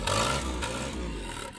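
A 1987 Suzuki FX car engine idles steadily, a loud, dense rumble with a constant rough drone, heard close and without talk.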